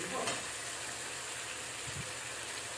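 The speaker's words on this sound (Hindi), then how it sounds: "यहाँ मैं डाल रही हूँ आलू, बस ऑलमोस्ट मसाला भून गया है।" Potatoes fry in spice masala in a pan, giving a faint, steady sizzle throughout with a light stirring scrape near the start.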